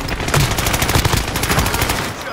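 Rapid bursts of automatic gunfire from an enemy in a shooter video game, loud and continuous with dense overlapping shots, while a player's voice is faintly present in the mix.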